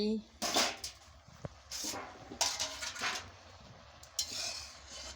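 A lid comes off a pot of boiling cauliflower and potatoes, with a few clanks of metal and handling clatter, and a brief sharp knock among quieter kitchen sounds.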